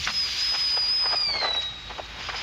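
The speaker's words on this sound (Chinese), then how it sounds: "现在像这个割保丽龙声音，其实都是喷气孔那个瞬间的那个高压的气体" Steady hissing roar of high-pressure gas venting from a volcanic fumarole, with a thin whistling tone gliding slowly downward and faint crackling bursts throughout.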